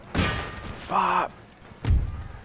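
Musket or cannon volleys in the Empire Total War battle game: a heavy thud opens, a shouted command follows, then a second deep booming blast lands, both close and loud.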